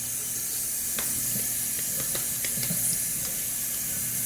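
Cold water running steadily from a tap during a shave, a continuous close hiss and splash with small drips and clicks, no talk.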